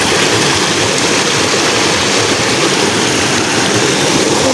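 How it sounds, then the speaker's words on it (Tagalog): A loud, rushing creek flows continuously and close by, a dense broadband wash of water with no pauses and no voices over it. "Lakas ng tunog ng sapa"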